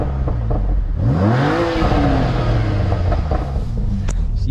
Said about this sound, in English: the car sounds great in its stock form with all the filters and whatnot